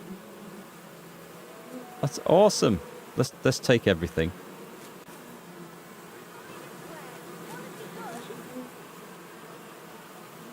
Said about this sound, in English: Listen to the bees.